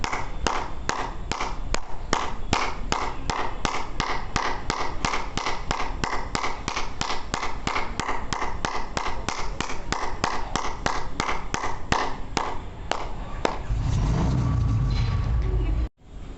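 Rapid, steady hand clapping repeated dozens of times at an even pace, crisp and close, as a health exercise; near the end the clapping stops and gives way to a low rumble and a sudden thud.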